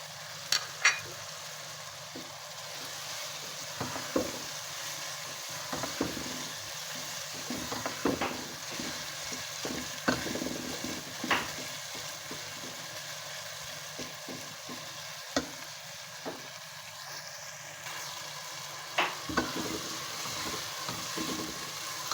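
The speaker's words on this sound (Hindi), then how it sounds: "अब हम इसमें टमाटर भी डालेंगे, उनको भी फ्राई करेंगे।" Minced meat and tomatoes fry in a pan for aloo keema, giving a steady sizzling crackle with scattered clicks of stirring, close and moderately loud, with no talking.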